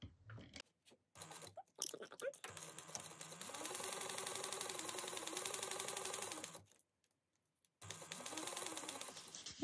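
A sewing machine stitches a 3/8 inch seam on a fabric pouch in two quick rattling bursts, with brief handling clatter before the first burst and a pause between them.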